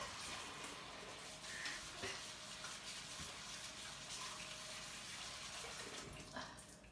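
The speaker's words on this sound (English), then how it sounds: "my hands are already washed, but I will wash them again." Running tap water splashes steadily over hands at a sink while they are washed, a continuous broadband rush with small bursts of splashing and rubbing throughout, close and fairly loud with no talking.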